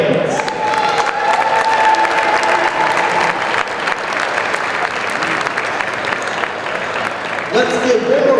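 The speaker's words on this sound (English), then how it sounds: "Let's give one more round of applause to Pontes, Liam, Jackson, Sam, and Taylor." A gym crowd at a high school boys varsity basketball game gives loud, sustained applause and cheering for the senior players. A voice speaks over the clapping and the whistles throughout.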